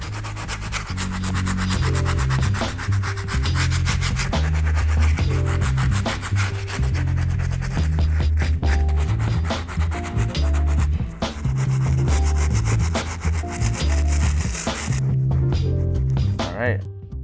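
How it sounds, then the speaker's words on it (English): Stiff bristle brush scrubbing the rubber outsole of a Vans Sk8-Hi 38 Reissue sneaker, a steady loud continuous rubbing and scratching for the whole stretch, with a voice talking over it. "move on to the outsoles using that same Stiff Bristle Brush"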